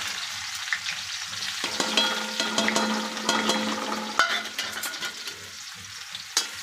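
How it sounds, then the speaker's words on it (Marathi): Onion sizzling in hot oil with cumin in a pan, a steady close frying hiss with occasional scrapes and stirs and a few metallic clinks of the spoon. "झालं, आता कांदा टाकते."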